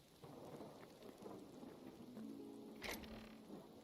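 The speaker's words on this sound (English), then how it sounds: "I heard a weird noise in game, but it was the rain starting up" Rain sets in within the video game Hytale, a steady patter of drops with a low rumble of thunder, alone and without talk.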